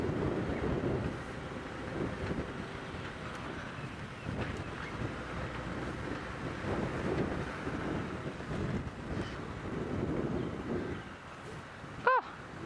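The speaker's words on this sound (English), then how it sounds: "On windy days like today" Strong wind buffets the microphone during a safari game drive, a loud, continuous rumbling roar that swells and eases throughout, with no one speaking.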